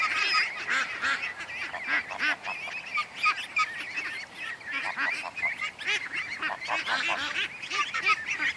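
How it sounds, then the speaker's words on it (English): A flock of geese with goslings honks near the camera, a continuous chorus of overlapping honks and calls with no talking. "Look at the size of the goslings."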